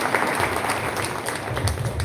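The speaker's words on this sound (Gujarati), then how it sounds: "આપણે તેઓને તાળીઓથી સન્માનિત કરીશું." Applause from an audience at an Israeli agriculture seminar honoring a market yard clerk called to the stage, a steady wash of clapping throughout, fairly close, with no talk over it.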